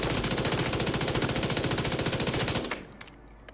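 Sustained automatic gunfire in The Division 2, a dense rapid burst emptying a full magazine for about two and a half seconds, loud and close, then cutting off into near silence with a couple of faint clicks.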